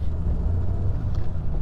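A car engine turns over and catches at a quiet country car park, then settles into a low steady rumble close by, with no talking.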